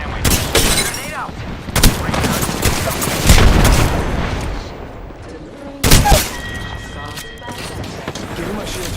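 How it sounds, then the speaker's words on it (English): Apex Legends team deathmatch: heavy gunfire bursts and booming blasts, including a grenade explosion, loud and close, with several sharp peaks among constant shooting and brief in-game voice lines. "Grenade out."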